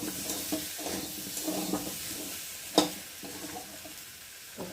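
Tomatoes mashed and stirred with a metal spatula in a frying pan, a steady sizzle under repeated scraping strokes and one sharp clink of the spatula against the pan.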